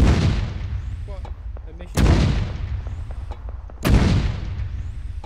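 Loud booming explosions from the video game Arma 3, two sharp blasts a couple of seconds apart over a constant rumble, with a voice reacting briefly.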